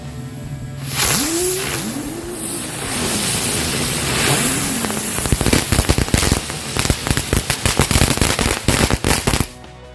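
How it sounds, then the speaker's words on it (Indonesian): Lotus flower firecracker going off inside a jumbo can: a whistling, whooshing spin with swooping pitch for several seconds, then a rapid, loud string of crackling pops that lasts until it cuts off. "Lanjut kita nyalakan mercon bunga teratai."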